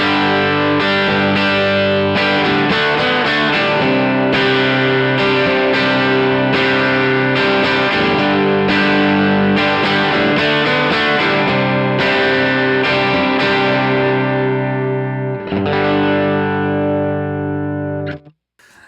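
An electric guitar plays a semi-dirty, lightly distorted tone through a Fender Deluxe Reverb amp model on a Line 6 HX Stomp, a loud steady run of chords and riffs before a final ringing chord fades out.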